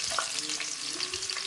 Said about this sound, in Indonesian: Kalau sudah panas, masukkan bawang brambangnya terlebih dahulu.